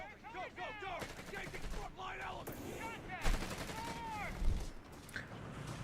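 In the World War II strategy game Company of Heroes 3, machine guns and rifles fire in uneven bursts, some loud and some more distant, over a busy battle soundscape with commentators talking underneath.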